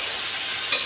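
Green gram with onion fries in a hot pan, giving a steady close sizzle for about a second, with a faint metallic clink partway through and no voices.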